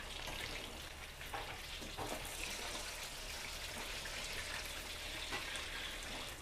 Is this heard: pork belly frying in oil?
yes